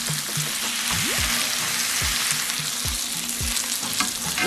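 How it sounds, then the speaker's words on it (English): Ham sizzles and fries steadily in a hot pan, a loud continuous crackle with occasional metallic scrapes and clinks of a utensil, and no talk. "So you flip it over and grill the other side."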